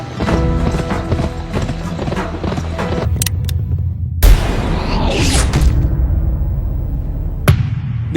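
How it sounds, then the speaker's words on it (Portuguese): Horse hooves clip-clop steadily while riding in a western PlayStation 2 video game, a continuous rhythmic trot under game music, broken by a couple of sharp bangs and a whooshing burst. "uma das coisas mais da hora desse jogo com certeza é você ficar andando com seu cavalo ali"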